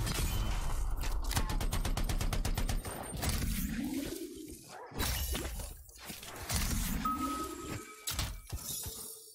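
Heavy bolts unlocking on a door in the video game Anthem: a rapid ratcheting clatter, then grinding mechanical creaks and whooshing rises, loud and layered, with a final metallic clunk.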